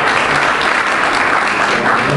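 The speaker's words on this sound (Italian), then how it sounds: "E le facciamo un applauso." Loud, dense applause from an audience at a national medical congress in Brindisi, a continuous roar of many hands clapping throughout.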